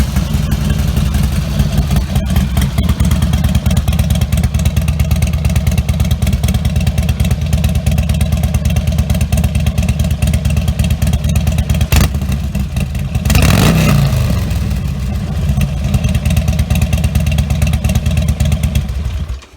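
Harley Sportster with stock exhaust idling loudly with a rapid throbbing pulse, then revved once or twice near the end before settling back to idle; no talk.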